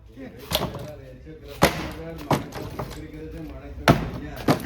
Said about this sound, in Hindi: सुगम ने तोड़ दिया दरवाजा